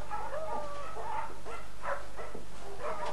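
Dogs at the Cheshire Dogs Home kennels: several loud, close barks and yips come in an uneven series, some ending in short whines, over a low background hum.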